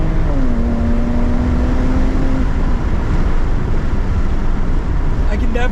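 A BMW 335i with an upgraded intercooler and boost accelerating hard in second gear, a loud, continuous engine roar with rising tone and heavy road and wind noise from inside the cabin.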